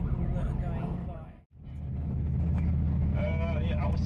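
Busy city traffic in Dakar, Senegal, streams past a bus under police escort: a steady roar of engines and road noise, a brief near-silent dropout, then the traffic wash resumes with horn-like tones.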